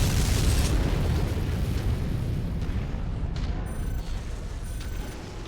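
A Vindicator mech blowing apart as it is destroyed in MechWarrior 5, a loud, sustained rumbling blast that fills the clip and slowly thins out, with no talk over it.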